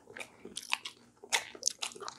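Crunchy bites of crispy fried pork coated in sweet and sour sauce, close up, with a quick run of crisp crackling crunches as the coated pieces are bitten and chewed, with no talk.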